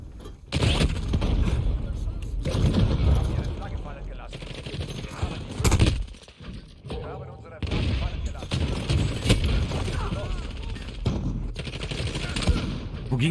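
Bursts of automatic and single-shot gunfire from a Call of Duty Modern Warfare multiplayer match, loud and dense throughout with brief pauses, mixed with game effects and occasional voices.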